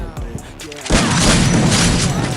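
Gunfire in the video game Free Fire, a sudden loud boom that gives way to a dense burst of shots. A person talks faintly beforehand.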